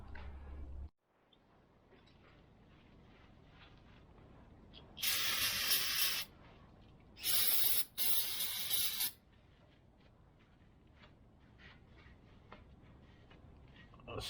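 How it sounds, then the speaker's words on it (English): Brake cleaner aerosol sprayed onto a car's brakes in bursts: a loud hiss of about a second, a short pause, then two longer hisses close together, with quiet workshop background around them. "First, I'm going to hit it with some brake cleaner."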